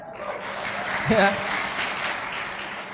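An audience claps steadily for a few seconds after a speaker introduces a top-ranked guest at a motivational seminar, with a brief cheer or shout in the middle.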